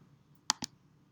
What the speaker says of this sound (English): Clicking the download button